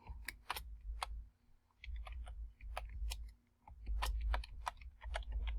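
Close, quiet keystrokes and clicks on a computer keyboard, typed in irregular bursts with short pauses, over a low steady hum.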